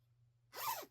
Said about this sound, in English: Another zipper.